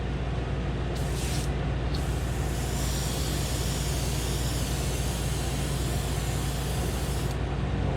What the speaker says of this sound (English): Go ahead and put a mist coat on the hood now.